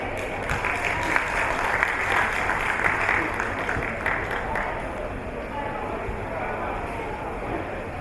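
Audience applause after a policy presentation, a dense continuous patter of many hands clapping at steady loudness throughout.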